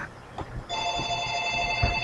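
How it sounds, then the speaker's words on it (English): A telephone rings with a steady electronic tone that starts partway through and continues to the end, loud and close, over faint background knocks. "The phone's ringing."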